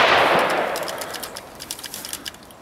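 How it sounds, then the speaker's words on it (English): Bursts of distant gunfire crackle in the background, a rapid series of sharp pops after a fading noisy swell, moderately loud and with no voices over them. "is all this gunfire in the background going to mess up your sound?"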